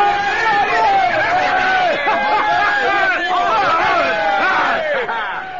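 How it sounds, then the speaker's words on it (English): A large, bloodthirsty crowd roars and cheers around a gladiator fighting pit, a dense wall of overlapping shouting voices that stays loud and sustained throughout the radio drama scene. "The bloodthirsty crowd was cheering for me, the pit fighter, the gladiator, killer of men"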